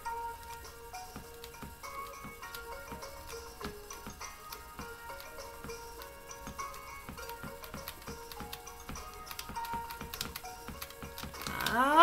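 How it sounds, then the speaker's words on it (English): Computer keyboard keys click in quick, steady bursts during play of Duck Life 3, the close tapping running the whole time over soft game tones that swell near the end. "You're gonna hear my key clicking a lot on the keyboard."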